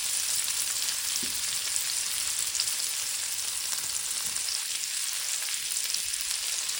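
Red onions and pepper sizzle in hot oil in a skillet, a steady bright frying hiss lasting throughout at close range, with no voices.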